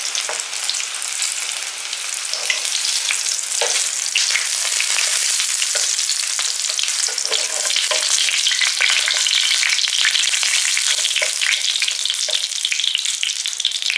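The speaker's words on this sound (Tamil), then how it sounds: "கத்திரிக்காய் வந்து நல்லா ரோஸ்ட் ஆகிடுச்சு எண்ணெயிலேயே." Eggplant fries in hot oil, giving a dense, bright, continuous sizzle with scattered crackles and pops, loud and close, and no talking.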